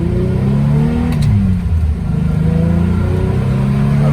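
A Nissan Z32 with T-tops cruises along, its engine giving a loud, steady rumble with gentle rises and falls in pitch as the throttle shifts, and no talking over it.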